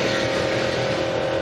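A historic racing car at the Goodwood Revival, running in the 2023 RAC TT Celebration race in the rain, drones steadily as it approaches a corner, a sustained engine note at a constant loud level.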